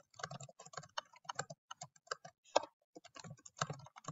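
Typing on a computer keyboard: a quick, steady run of close, crisp key clicks in short clusters with small pauses, heard alone and fairly quiet.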